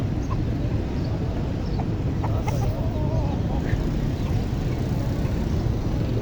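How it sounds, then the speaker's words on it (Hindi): A Java breed rooster clucks a few times in short bursts amid constant loud crowd rumble and background chatter at a busy poultry market. "ये मुर्गा चेक करें दोस्तों माशाल्लाह से, ये कैसा, कौन सी नस्ल? जावा है, जावा नस्ल।"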